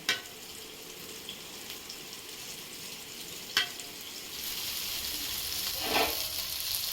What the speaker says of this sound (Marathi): आता बघा सुरमई फ्राय करते छोटी आहे सुरमई